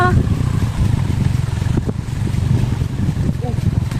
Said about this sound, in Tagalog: mahangin na siya dito.